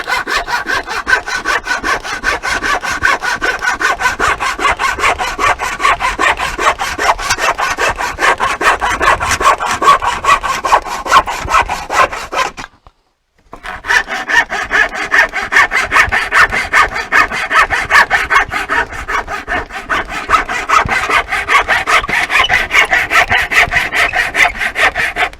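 A hand saw rasps through excess pieces of old pallet wood in quick, even back-and-forth strokes, loud and close, broken by one brief pause midway before the steady sawing resumes.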